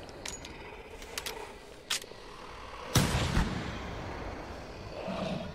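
Rifle shots fired in theHunter hunting video game: a few sharp cracks early on, then a louder, heavier blast near the middle followed by a rumbling tail, over a quiet outdoor ambience.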